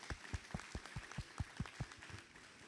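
Faint, fairly regular claps from a small audience after a lecture on entering the teaching career in Mexico, about a dozen distinct hand strikes in quick succession, thinning out at the end.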